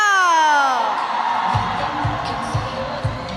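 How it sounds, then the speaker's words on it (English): Crowd cheering and whooping for Team India's three women walking on at the ISTAF Sepaktakraw World Cup, a broad roar that starts loud and stays steady, with rhythmic thumps beneath from about halfway. "That cheer is predictable, isn't it?"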